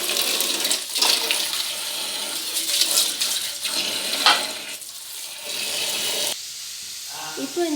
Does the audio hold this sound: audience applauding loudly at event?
no